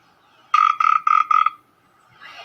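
A tree core borer twists steadily into the bark of a healthy tree, giving four evenly spaced squeaky creaks in quick succession, clear and close, with no talking.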